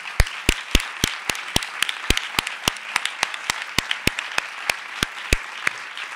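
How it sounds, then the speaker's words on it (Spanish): Clapping rings out at a 2016 tribute event honouring women, in a steady, evenly spaced rhythm of crisp claps that carry on close and clear, with no voices over them. "yo pediría un aplauso para ellas ahora mismo"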